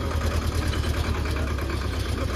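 Tractor engine hauling goods up the pilgrimage route to Kedarnath, a steady low, rumbling idle-like drone that stays continuous and fairly loud throughout with no talking.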